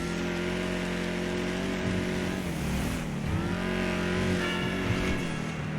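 Engine of the Vapid Dominator GTX muscle car, modeled on a 2015 Ford Mustang GT, in GTA Online: a loud, steady, throaty drone that swells and dips with revving throughout, with no talking.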